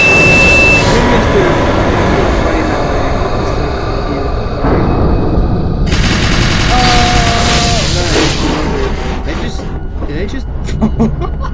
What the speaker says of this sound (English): I hear more gunfire.